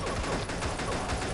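Gunfire in the mobile shooter Pixel Gun 3D sounds as a dense, continuous barrage of rapid shots. The overlapping bursts stay loud and unbroken throughout, with no voices.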